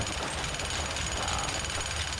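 Jackhammer in the video game Teardown, a steady close-up pounding rattle that runs without pause, loud and dense, with no talk over it.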